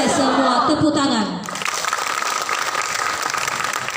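A crowd at a school scout installation ceremony bursts into dense, steady applause that follows a speaking voice and carries on for a few seconds at moderate loudness.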